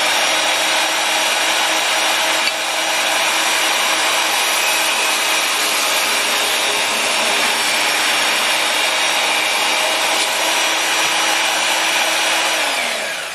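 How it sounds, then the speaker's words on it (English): A bandsaw cuts through knife scales glued with Gorilla Glue, giving a continuous close, loud hissing whine with a steady pitch throughout, with no talking. "Okay, we're over to the bandsaw."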